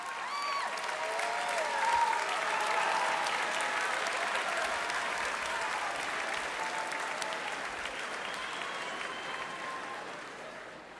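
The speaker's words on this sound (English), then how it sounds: "Graduates, please turn to the audience and thank your parents and guardians with a round of applause." A large crowd of high school graduates at a 2015 graduation ceremony applaud their parents and guardians in a sustained, full round of clapping that slowly eases off toward the end.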